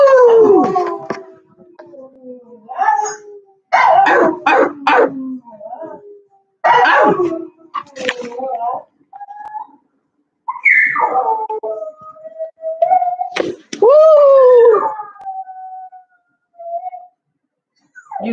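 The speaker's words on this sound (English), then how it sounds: "You two little puppies howling." Two puppies howl in drawn-out, wavering bursts with short yips and gaps between, loud and close, occasionally overlapping one another.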